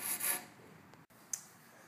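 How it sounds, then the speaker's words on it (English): Sandpaper or a sanding block rubs across the freshly cut rough edge of a SUP paddle shaft, giving a close, short, dry scraping stroke followed by a fainter second rub. "use your sanding block or sandpaper to sand off any rough edges"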